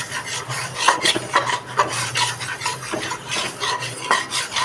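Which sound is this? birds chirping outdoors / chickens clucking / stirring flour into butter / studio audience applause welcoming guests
stirring flour into butter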